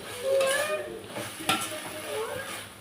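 Moringa leaves and onions are stir-fried with a soft, steady sizzle, a few scraping stirs and one sharp clink near the middle, all at moderate loudness.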